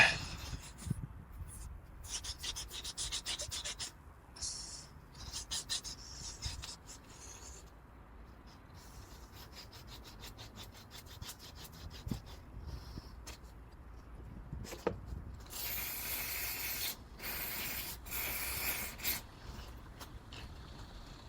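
Gritty rubbing and scrubbing strokes of a Scotch-Brite pad cleaning a Honda 5hp four-stroke outboard part, coming and going in bursts, close up, with harsher, brighter scouring passes toward the end.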